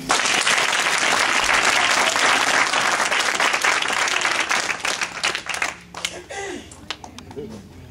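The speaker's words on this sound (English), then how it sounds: "Just clap one more time." Loud audience clapping at a theatrical church ministry performance, thick and sustained, then thinning into scattered claps and voices near the end.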